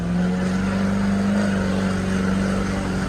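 An older car accelerates on the road after a home-done steering alignment repair, its engine drone steady and close inside the cabin with a low humming tone, no talking over it.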